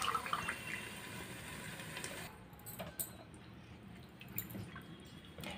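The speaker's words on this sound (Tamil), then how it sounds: "அதுக்கு 4 டம்ளர் தண்ணி" Water is poured into a pot for cooking mushroom biryani with basmati rice, a soft splashing trickle that changes to quieter drips and small liquid sounds partway through, faint and close.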